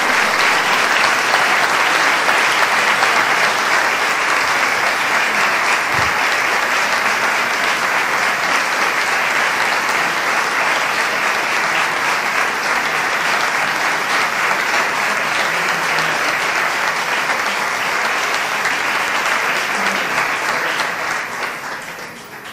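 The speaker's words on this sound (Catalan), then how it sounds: "la vara de mando i aplaudiment general" General applause fills a hall at a mayor's investiture ceremony, a dense, sustained wash of many hands clapping at steady loudness for over twenty seconds before fading at the end.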